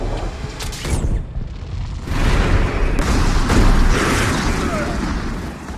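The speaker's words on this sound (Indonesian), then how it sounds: "Karena seisi ruangan itu sudah dipenuhi gas, maka terjadilah ledakan" A gas-filled room explodes in an action film, a loud, dense, rumbling blast that rolls on for several seconds. It swells near the middle, with a voice faintly beneath it.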